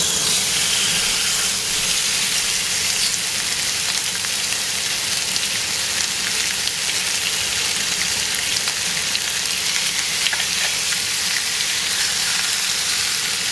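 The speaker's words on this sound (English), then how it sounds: "let me go ahead and place this down and enjoy the sizzle and the music" Chicken fajita strips sizzle and hiss in a hot pan, a steady, loud, close frying crackle that holds without a break for the whole stretch.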